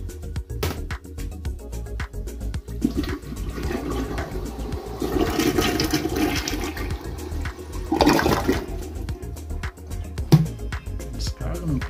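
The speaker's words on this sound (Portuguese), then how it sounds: "Descarga, não pingou nada." A household toilet flushes after its discharge valve repair kit is replaced, a rushing swirl of water that builds, surges near the end and tapers off, with a voice briefly heard.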